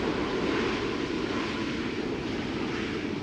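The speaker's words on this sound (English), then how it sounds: "Somewhere in the distance, a 777 has just taken off to Rio de Janeiro." Boeing 777 taking off far away at Schiphol Airport, a faint, steady jet roar blended with wind noise across the whole stretch, with no voices.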